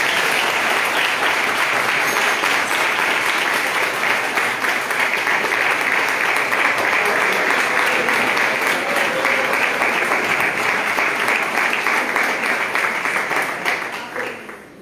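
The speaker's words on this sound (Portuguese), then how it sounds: "As palmas louvam o Senhor." Church congregation at a live evening service clapping in praise, a loud, dense and sustained roar of applause from a large crowd that holds steady and then fades out at the very end.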